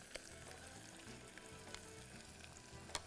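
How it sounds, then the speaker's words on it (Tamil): Green chillies sautéing in hot oil in a pan, a continuous close sizzle with occasional stirring clicks. "இதையும் போட்டு நல்லா வதக்கிடுவோம்."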